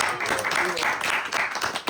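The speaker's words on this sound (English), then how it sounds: "give a big round of applause" Audience applause at a spiritual talk, a short burst of clapping from a group close by, with a voice talking over part of it.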